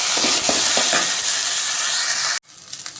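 Onion, garlic, fennel, green and dried chillies and ginger sauté in a hot pan, giving a loud, steady sizzle with a few stirring scrapes before it drops away near the end.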